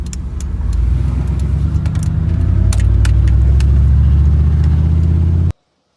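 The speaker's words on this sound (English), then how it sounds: "I started to hear a whine coming from the transmission or drivetrain somewhere" A 1994 Chevrolet Suburban drives along steadily with a loud low drone and a faint transmission or drivetrain whine riding above it, then cuts off abruptly near the end.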